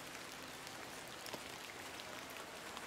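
Rain falling in the video game The Excavation of Hob's Barrow, a steady, quiet wash of drops pattering on surfaces without a break.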